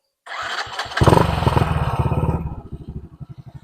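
A Honda Astrea Grand motorcycle engine cranks with a few short starter bursts, catches, revs briefly and settles into a rapid, even idle putter, close up.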